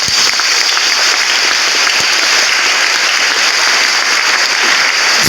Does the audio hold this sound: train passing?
no